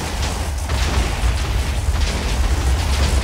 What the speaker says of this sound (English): it actually hurts them, the explosions.